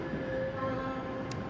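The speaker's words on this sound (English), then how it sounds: "So it is a 158 unit, 158 Sprinter." Class 158 Sprinter diesel multiple-unit train rolling past with a steady rumbling drone and faint tonal hum, close and continuous for a brief moment, with no speech.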